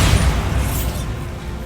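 Bombarda spell explosion in Hogwarts Legacy, a deep, rumbling boom that fills the moment loudly and then decays through a dense low-end roll with no talking over it.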